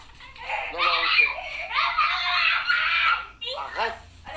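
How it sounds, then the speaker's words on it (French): A young girl wails and screams in a prolonged, high-pitched tantrum, with breaks between strained cries, close and loud, while other voices are faintly audible. "sortir son arme favorite, les pleurs et les cris"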